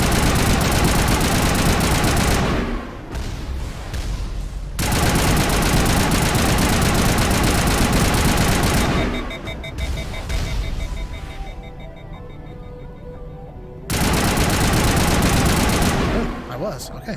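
Gunfire in the video game Mass Effect Legendary Edition: loud bursts of shooting and a low engine drone in three long stretches, dropping away between them, with talk over parts of it.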